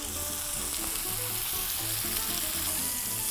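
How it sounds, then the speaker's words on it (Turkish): Lamb loin searing in a frying pan with butter and oil gives a dense, unbroken hiss that stays loud and even for the whole stretch, close and with no voices. "Etimi tavama atıyorum."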